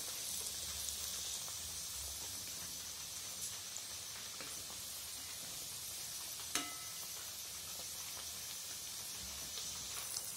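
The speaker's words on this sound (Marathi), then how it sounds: "मीडियम आचेवर ह्या खांडवी तळून घ्यायच्या आहेत।" Khandvi pieces frying in a pan over medium heat give a steady, soft sizzle throughout, with a single faint tap partway through and no talking.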